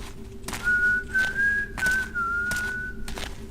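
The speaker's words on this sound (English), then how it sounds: "Yes, whistle, whistle." A person whistles a sustained, wavering melody in several connected phrases, clear and fairly close over a low background hum, with no talk.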